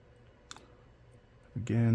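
Faint clicks from lock pins being set while picking a Mul-T-Lock MT5+ lock, a couple of small sharp ticks near the start before a voice begins speaking at the end.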